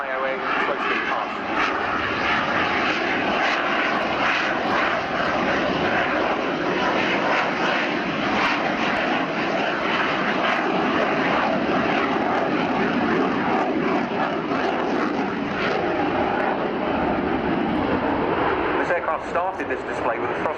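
Jet roar from a canard-equipped fighter flying a high-alpha, slow-speed pass at an air show, a loud steady engine roar throughout, under a commentator's voice.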